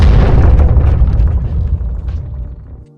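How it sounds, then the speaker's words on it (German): A loud explosion booms outside a hotel in the PlayStation game Parasite Eve 2, a heavy deep blast that rumbles on and slowly fades over a few seconds before cutting off. "hört sie von draußen einen lauten Knall"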